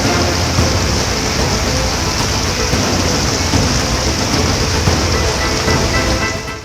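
Heavy rain pours onto the main mountain road to Badrinath, a loud, steady hiss that stays even from start to finish.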